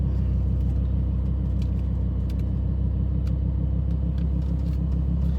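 A Lamborghini Huracan with a naturally aspirated V10 rumbles loudly and steadily from inside the car, a deep, continuous engine drone with a low throb and no speech.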